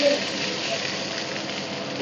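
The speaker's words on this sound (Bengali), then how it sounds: "সয়া সস দিয়ে হালকা করে নাড়িয়ে নেবো।" Chilli paneer with soy sauce being gently stirred in a hot pan, giving a steady, moderate sizzle and frying hiss that runs evenly throughout.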